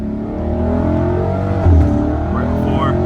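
A Dodge Charger pulls hard in first gear, its engine note climbing steadily as it accelerates from inside the car, with a brief bump near the end and a faint voice underneath.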